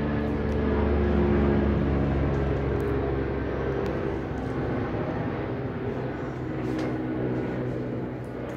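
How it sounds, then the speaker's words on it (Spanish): A helicopter passes overhead with a steady, heavy low rumble that stays loud and close for several seconds, then eases slightly as it moves away. "está pasando un helicóptero"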